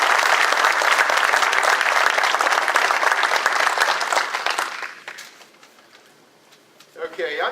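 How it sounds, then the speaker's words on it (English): Audience applause at a high school hall of fame induction dinner, a loud sustained round of clapping that fades out, followed by a voice speaking. "Mr. Foote really deserves a round of applause"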